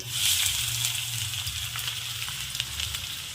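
Two finely chopped onions fry in oil until brown, giving a continuous, fairly loud sizzle with light crackles and a few stirs.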